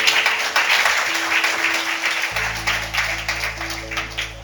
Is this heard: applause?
yes